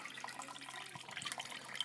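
Wort drains from a grain bed during a home beer brew, sparge water spilling over the edge, giving a faint, continuous trickle of liquid with small drips in it.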